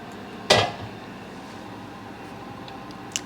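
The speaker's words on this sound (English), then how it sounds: "Now I'm going to stir this all in, and I'm going to cover it so it can come to a nice boil." A single sharp clatter of a utensil against a pot while roselle jam is stirred, followed by quiet near-silence and one faint clink at the end.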